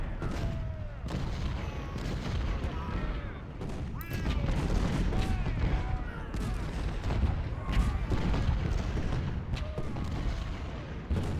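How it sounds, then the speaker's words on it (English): Artillery shelling in the Civil War strategy game Ultimate General: Civil War gives steady rumbling booms and scattered volleys of musket fire, moderately loud and continuous throughout. "Down here Wagner is getting shelled"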